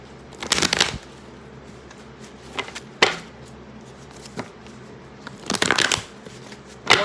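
Tarot cards being shuffled in several quick riffling bursts, close and crisp, separated by quiet pauses and a few soft taps.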